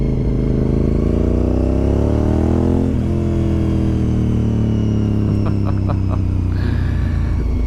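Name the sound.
Honda RC51 SP2 motorcycle engine running at 4,000 RPM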